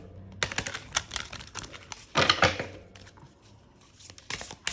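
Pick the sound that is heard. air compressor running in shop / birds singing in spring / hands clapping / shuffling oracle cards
shuffling oracle cards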